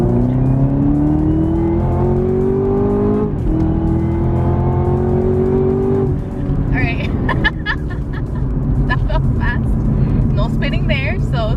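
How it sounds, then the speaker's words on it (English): A 2019 Chevrolet Camaro ZL1 1LE pulling hard in second gear, its engine roaring loudly and climbing steadily in pitch, then a brief upshift dip and renewed rise, heard from inside the car. "let's try another pull. I'm gonna do 40 on second gear."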